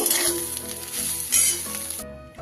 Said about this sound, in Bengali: গ্যাসটাকে কমিয়ে বাড়িয়ে মিনিট দুয়েক আমি সয়াবিনটাকে একটু নেড়ে নিলাম